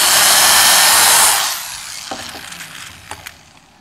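A power drill drives a screw into a wooden birdhouse, whining loudly and steadily for about a second and a half before cutting off, followed by a few faint clicks and taps.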